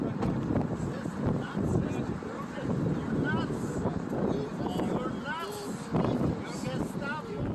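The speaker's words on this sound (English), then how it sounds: "It's a bit windy, so the microphone doesn't pick it up." Wind buffets the microphone with low rumbling gusts while people talk underneath.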